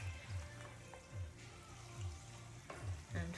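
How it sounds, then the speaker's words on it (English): Fried masala corn being shifted about as hot oil drains off, faint soft scraping and rustling in short repeated bursts with a low gurgle, no talk. "I'm just draining the oil off"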